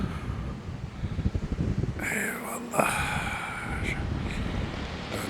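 Gusty wind at Taşdibi beach buffets the microphone with low rumbling thumps, while a person speaks briefly and other sounds pass in the background.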